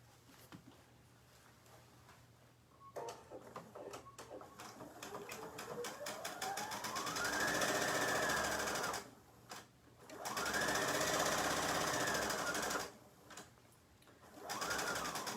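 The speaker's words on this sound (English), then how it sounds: "sewing at the notch all the way down to the corner, across the bottom, and then up the other side to the other notch" Sewing machine running a straight stitch along a bag seam with a half-inch allowance, steady whirring bursts that stop and restart several times, close and moderately loud.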